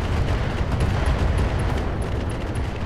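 A loud, sustained rumbling roar of explosions fills a Roguetech mech combat video game, dense and continuous like a volley of blasts, with no voices over it.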